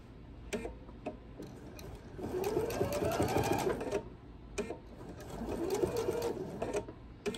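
Two slow bursts of a sewing machine stitching quilt binding stand out clearly, each lasting a couple of seconds, separated by quiet clicks and handling taps.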